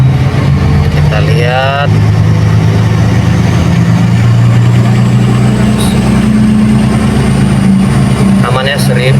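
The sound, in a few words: Caterpillar 777E haul truck engine revving during brake test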